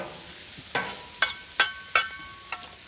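Onions sautéing in oil on a Blackstone griddle give a faint, steady sizzle, broken by several sharp scraping clicks of a spatula moving them around, spaced roughly half a second apart.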